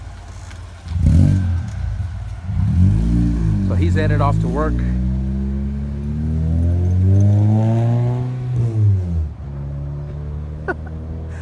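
Supercharged K20-powered wagon with a full 3-inch exhaust and no resonator, revving loudly up and down in a couple of rising and falling sweeps, close by, with someone speaking briefly at the start.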